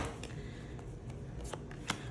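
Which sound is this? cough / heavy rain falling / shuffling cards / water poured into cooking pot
shuffling cards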